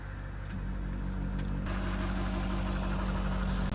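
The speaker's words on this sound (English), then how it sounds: "That is now the pump for the clutch pump. So I'll turn it on now." A clutch pump on a 2020 Chevy 6500 truck switched on and running, giving a steady loud mechanical drone over the truck's engine, with a slight change in tone partway through.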